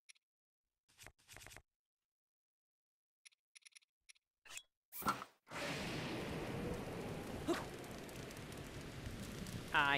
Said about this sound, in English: I can't do anything when it's raining.